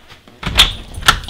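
A side door of a house opens off a garage full of clutter, giving two sharp nearby clicks or knocks about half a second apart against a quiet room.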